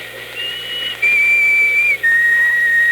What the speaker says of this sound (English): Remember that whistle?